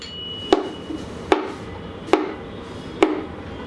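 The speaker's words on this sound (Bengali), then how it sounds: "এগুলোকে আমি ছোটো ছোটো টুকরা করে কেটে নিই" A knife chops ripe bananas into small pieces on a board, four sharp, evenly spaced knocks about a second apart, close and clear with no talk.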